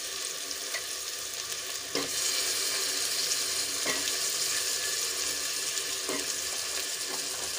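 Potatoes and tomatoes sautéing in a pressure cooker, a steady close hiss of frying with a few sharp clinks of stirring scattered throughout, no voices.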